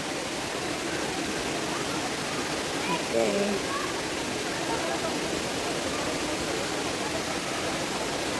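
A constant rushing flow of water from a swimming pool at a waterfall fills the scene, steady and broadband, with a brief spoken word partway through.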